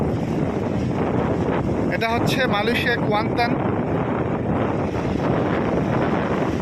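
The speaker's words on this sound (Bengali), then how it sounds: "সাগরের গর্জন অনেক বেশি আছে" A constant roar of large sea waves and wind on a Malaysian beach fills the clip, with someone speaking briefly over it.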